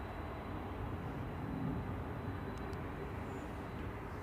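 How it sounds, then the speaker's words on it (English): Boeing 737-800 taking off from Manchester Airport, a steady broadband engine roar holding at moderate loudness throughout, heard from a distance with no talk over it. "737-800 GR UKB on the roll"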